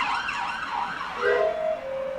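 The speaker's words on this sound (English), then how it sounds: "I wanted to hear that police car" Police car siren wailing, a loud rising and falling tone sweeping repeatedly, then shifting to a steadier held pitch, close and prominent with no talk over it.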